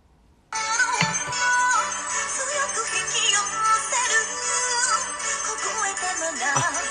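A phone's bright electronic ringtone starts abruptly after a brief silence and keeps playing steadily and loudly, a busy melodic tone with no one talking over it.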